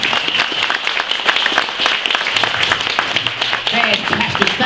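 A live show audience at the Stockmen's Hall of Fame claps and applauds steadily, a dense and loud patter of many hands that keeps going with no break.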